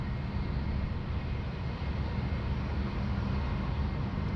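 Passenger jet aircraft at Sydney Airport, a steady, continuous roar of engine noise throughout, fairly loud and unbroken, with no voices.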